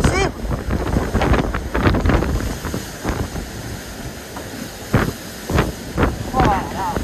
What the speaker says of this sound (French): Regardez, on a plus de 50 nœuds de vent!